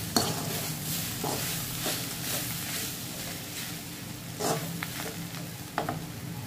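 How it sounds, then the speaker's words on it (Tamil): Beaten egg is stirred into shredded chapati kottu parotta in a hot pan, with a low, even sizzle and scattered scraping and tapping from the spatula, close and fairly quiet, no talking. "முட்டை சேர்த்துட்டு அதையும் நல்லா மிக்ஸ் பண்ணி விடுங்க"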